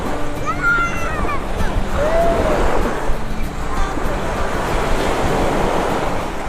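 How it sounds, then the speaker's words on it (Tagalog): Strong ocean surf crashes and rushes continuously at San Juan, Philippines, with wind buffeting the microphone. Faint voices are heard over the waves. "Malakas nga yung alon"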